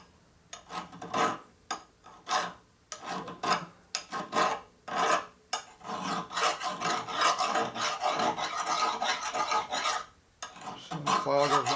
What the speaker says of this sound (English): So the file goes nice and easy.